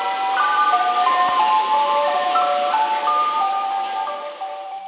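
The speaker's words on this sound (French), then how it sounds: "Est-ce que vous vous souvenez de cette mélodie qui annonçait l'arrivée du camion de glace?" Tinkling ice cream truck melody plays a steady, continuous chime tune throughout, fairly loud and clear with no one speaking.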